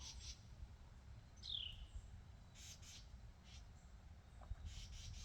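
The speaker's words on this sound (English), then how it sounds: "That's some bird activity, I can hear it." Faint birds calling outdoors, a few distant squawks and chirps over a low rumbling ambient background.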